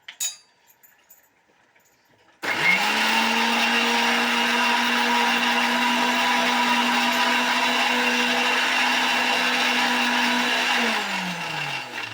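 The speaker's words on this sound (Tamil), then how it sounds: "இப்போ இதில் கொஞ்சமாக தண்ணி சேர்த்து மறுபடியும் நான் அரைக்க போகிறேன்" A mixer grinder whirs loudly and steadily as it grinds a herbal paste with water, kicking in abruptly after a few quiet seconds and running at a constant pitch before winding down near the end.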